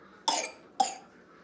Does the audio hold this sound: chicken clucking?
no